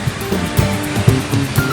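Ocean waves washing onto the shore at Taurito on Gran Canaria, a loud rushing roar that rises and falls in quick pulses, close and steady for under two seconds with no voices.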